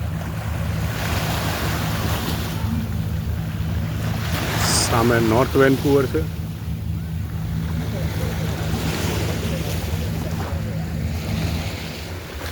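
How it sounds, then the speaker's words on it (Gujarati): Sea waves wash and splash against a sea wall along a waterfront walking path facing North Vancouver, a steady broad rushing with wind buffeting the microphone, while a person speaks briefly over it. "એ મોજા આછડાઈ રહ્યા છે."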